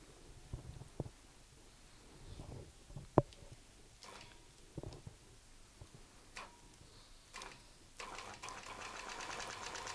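A sewing machine stitches fabric quietly in short, intermittent runs, with scattered ticks and clicks between them, ending in a longer steady whir.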